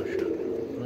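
A brief, soft, low cooing from a breeder pigeon of a golden blood line, heard close by against a quiet background.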